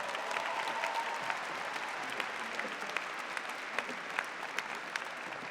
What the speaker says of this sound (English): Let's give our chair of the board another round of applause.